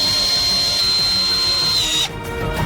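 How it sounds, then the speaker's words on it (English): Power screwdriver driving screws to fix glued semicircular parts into a pipe form, one steady high whine lasting about two seconds, then stopping abruptly, close and loud with no talk. "Additionally, we fix them with screws."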